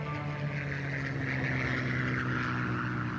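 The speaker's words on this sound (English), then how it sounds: "It was a Spitfire, no doubt about it. A British reconnaissance plane spots the Bismarck" A Supermarine Spitfire, a British reconnaissance plane, drones steadily overhead with a loud, continuous propeller-engine hum that holds at a sustained level throughout, with no speech over it.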